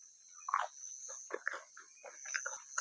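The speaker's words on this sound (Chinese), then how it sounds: "然后那个虫鸣这样" Insects chirp and buzz at night at a mountain campsite in Yilan, Taiwan, a faint steady high drone with scattered soft chirps and calls, distant and quiet.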